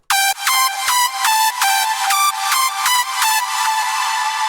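Hardstyle synth harmony lead built in FL Studio: a bright, buzzy sustained chord stabbed in a steady rhythm of about nine even pulses, loud and upfront with no voice over it.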